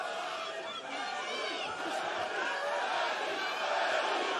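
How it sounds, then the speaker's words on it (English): A boxing arena crowd chants for Eddie Hall during his fight against Thor, a dense, steady roar of many voices filling the hall at moderate loudness throughout. "Chant of Eddie Hall again. This crowd trying to pick Eddie up."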